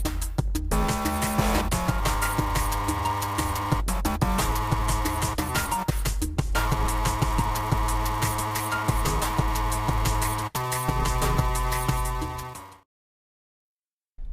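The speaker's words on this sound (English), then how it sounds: "Okay, so the third synth kind of sounds like this." A weird FM synth patch made in Reason 7 plays a dense, rhythmic, metallic sequence with punchy low hits and clanging upper tones, loud and alone, then cuts off into silence near the end.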